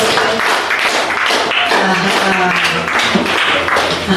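A crowd of children claps steadily for a birthday child at a primary school celebration, a dense, continuous patter of applause lasting several seconds with some voices mixed in.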